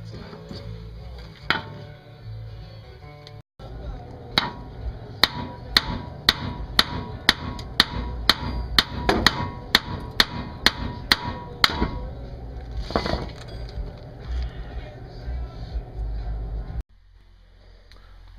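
Sharp metallic hammer blows ring out close by on a car ball joint, about a dozen strikes in a quick, fairly regular series, with a low hum beneath.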